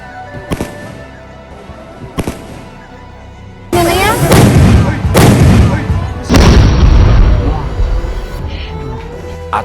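Cannons fire at a festival, with two sharp early reports followed by two heavy, rumbling booms that roll on for seconds, loud and close, while a crowd reacts with shouts and cheers.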